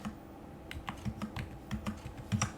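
Numbers are typed on a computer keyboard in a word processor, a quiet run of crisp, irregular key taps spaced closely together, alone with no talking.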